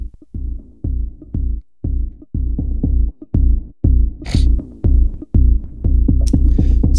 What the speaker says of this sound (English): So that's the sound of Deep and Dirty.